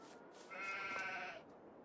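A single drawn-out sheep bleat from the Farming Simulator 22 video game, quavering and nasal, heard faintly over a soft background hush.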